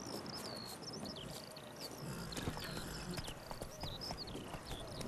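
Geralt's horse Roach trots up in The Witcher 3: Wild Hunt Blood and Wine, with steady clip-clop hoofbeats at moderate distance beneath a constant bed of chirping birds and insect ambience.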